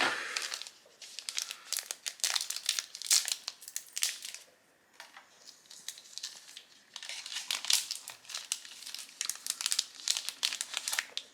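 A Digimon card booster pack wrapper is handled and torn open, giving a steady, close, crackling crinkle of foil plastic that comes in bursts with a short lull in the middle and no voices.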